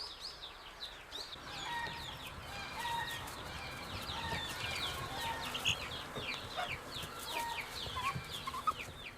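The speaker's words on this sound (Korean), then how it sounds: "잡아온 갈색 여치를 풀어놓자 닭이 쪼아먹기 시작했다." Chickens cluck and call steadily on a farm plot while they peck at and eat brown katydids. The clucking is moderately close and comes in busy, overlapping bursts over a low outdoor background.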